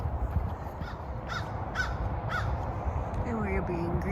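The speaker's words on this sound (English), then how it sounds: "And we're being greeted by a crow." A crow caws several times in short bursts, moderately close, over steady outdoor ambience along a trail in Florida, with a faint voice at the end.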